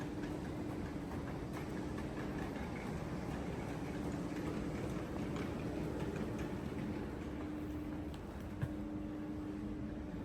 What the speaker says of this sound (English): On board the train, you see there's great seating.